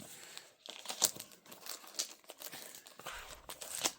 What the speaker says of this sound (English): Doing the stuff and cutting these puppies open at the same time